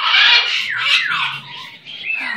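A nervous pet bird gives a run of loud, harsh squawks and sliding whistled calls close by, several bursts over a couple of seconds.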